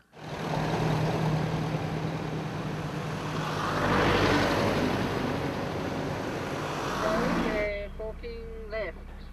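A 4x4 vehicle drives a dense rainforest track toward the northern tip of Cape York Peninsula, a steady engine and tyre rumble rising slightly mid-way, with someone narrating over it before it fades near the end.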